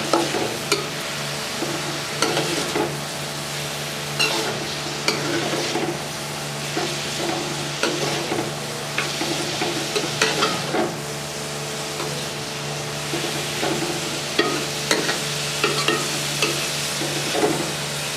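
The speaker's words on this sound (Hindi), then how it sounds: "प्याज को अच्छे तरीके से फ्राई करेंगे।" Onions frying in a pan for tori (ridge gourd) sabzi, a constant moderate sizzle with repeated scraping and clinking as a spatula stirs them, close up and with no talking.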